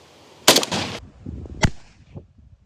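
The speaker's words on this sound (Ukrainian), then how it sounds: "А ми переходимо до тесту російської плити бронебійним набоєм 545. Постріл." A single sharp gunshot from a 5.45 armor-piercing round strikes a Russian armor plate, a loud close crack followed by a second sharp impact and fading rattles.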